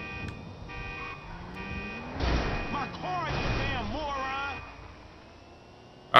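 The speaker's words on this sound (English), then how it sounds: "Ich weiß gar nicht, warum das Alarm macht, das Auto." Alarm of a stolen Coil electric car in GTA 5, a repeating electronic warble that sounds in bursts near the middle over a steady hum, with a voice talking in stretches.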